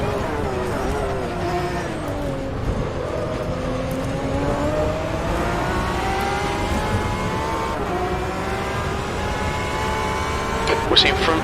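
Porsche race cars in rFactor 2 at night, engines droning and revving in rising, falling harmonic sweeps as they run close together, with a voice talking over the engine noise.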